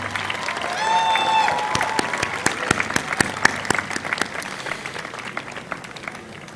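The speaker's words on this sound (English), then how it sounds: "Please join me in a heartfelt round of applause for all of today's graduates of the American University of Iraq, Suleimani." Applause from a commencement audience fills a large hall for university graduates, sustained and dense with sharp individual claps standing out, a brief tonal chime near the start, fading gradually toward the end.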